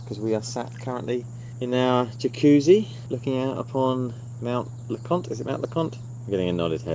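Outside a jacuzzi looking toward Mount LeConte, cicadas keep up a steady, high, continuous chirring drone under a low hum, while people talk over it.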